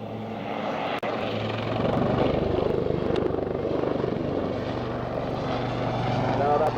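A Blue Eagles Westland Lynx helicopter performing a backflip at the RAF Waddington Airshow 2006, its rotor and engine roaring loudly and continuously, with a sustained low throb and a steady wash of noise; a commentator speaks over it.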